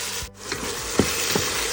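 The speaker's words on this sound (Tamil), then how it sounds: "கத்திரிக்காய் போட்டு கொஞ்சம் அழகாக இதை வதக்கிட்டோம்." Soft sizzling of eggplant sautéing in a pan with a few light scraping stirs, quiet and close, with no talking.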